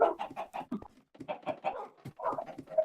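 Chickens in the Minecraft video game cluck in short, repeated bursts, several birds calling one after another at close range with brief pauses between groups.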